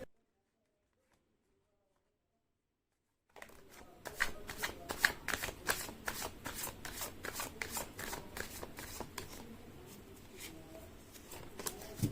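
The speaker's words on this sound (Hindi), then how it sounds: "कर लेती हूँ कार्ड की शफलिंग" Tarot cards are shuffled by hand after a few seconds of silence, giving a rapid, close, crisp riffling patter that continues steadily at a quiet level.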